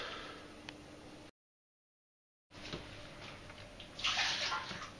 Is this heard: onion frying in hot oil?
no